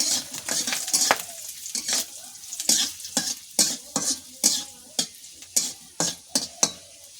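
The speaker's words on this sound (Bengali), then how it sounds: "হালকা করে ভেজে নেব, খুব বেশি ভাজার দরকার নেই।" Garlic and green chillies frying lightly in mustard oil in a wok, with a soft steady sizzle broken by a regular series of sharp spatula scrapes and stirs against the pan.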